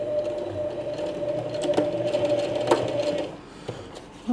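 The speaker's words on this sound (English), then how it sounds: "we got the 1/8 inch stitch here on the nylon webbing strap" A sewing machine stitches nylon webbing strap for a coin purse, giving a steady close whir with a sustained tone and a few clicks before it stops.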